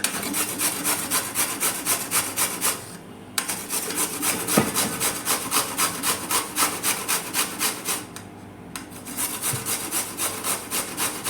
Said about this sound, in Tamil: இப்போ இதை நம்ம வந்து காய் சீவல் வச்சு எல்லாத்தையும் நம்ம சீவி எடுத்துக்கலாம்.